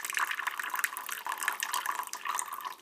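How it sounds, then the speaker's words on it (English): Tap water runs steadily into a bowl for whisking eggs, a continuous close hiss and splash with faint gurgling variations, no voices. "I'm just going to head over to the tap and fill this up with a bit of water"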